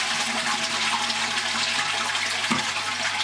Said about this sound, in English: I'm now just going to flush that to get the water out of the cistern.